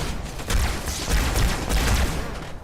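Halo 2 grenade explosions boom in a rapid, overlapping burst of muffled blasts and crackle during combat, loud and close for a couple of seconds.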